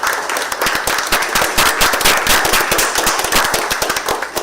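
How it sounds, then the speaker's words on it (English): Dense applause from a conference audience at the GNOME Asia Summit in Bangalore, thanking sponsor Red Hat; sustained rapid clapping fills the hall steadily for several seconds with no talk over it. "again a round of applause for them"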